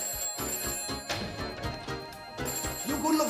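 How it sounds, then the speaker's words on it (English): A telephone rings in a house in bursts of bell tones over background music, with brief voices mixed in. "Quick! The phone's ringing."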